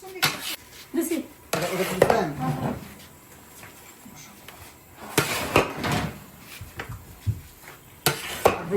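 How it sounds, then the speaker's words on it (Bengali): Fried rice cooking in a pan at an iftar gathering in New York: intermittent metallic clanks and scrapes of a utensil against the pan come in uneven bursts, with people talking in between. "আমাদের ফ্রাইড রাইস অলমোস্ট রান্না শেষ পর্যায়ে চলে আসছে।"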